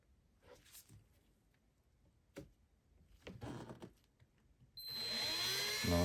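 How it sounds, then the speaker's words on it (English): A drill bores pilot holes through shower trim for a sliding door's lower guide. A few quiet clicks and bumps come first, then a loud steady whirr starts near the end. "drilling pilot holes for installing this lower guide in this trim"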